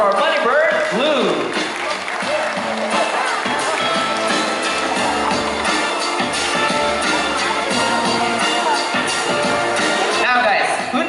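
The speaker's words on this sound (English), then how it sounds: "Another round of applause for our bunny bird, Blue." Audience applause and cheering fill an outdoor amphitheater bird show, a steady dense crowd sound holding throughout with talk mixed in.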